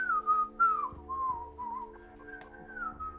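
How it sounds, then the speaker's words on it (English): A person whistles a wavering tune in several short phrases, close and clear, against a quiet indoor background with faint low hum and occasional soft knocks. "Is he whistling?"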